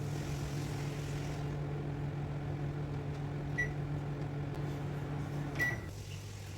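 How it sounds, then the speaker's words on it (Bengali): An electric oven bakes a sponge cake at 180 degrees with a steady, close, even hum that holds for the whole stretch. Two short, faint electronic beeps sound near the end. "এখন 180 ডিগ্রি তাপমাত্রায় 35 মিনিটের জন্য কেকটি বেক করে নেব।"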